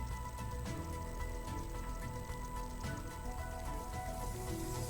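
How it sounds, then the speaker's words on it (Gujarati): Heavy rain falls steadily in a dense, even hiss in Dhoraji, Rajkot district, faint and distant, with a continuous wash of drops and no voices. "રાજકોટ જિલ્લાના ધોરાજીમાં આજરોજ ધોધમાર વરસાદ પડ્યો છે"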